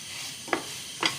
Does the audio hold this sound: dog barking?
no